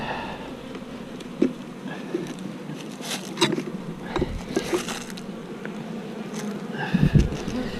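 Bees swarm and buzz in an opened hive, a steady insect drone with scattered sharper buzzes and a few soft knocks and rustles close by.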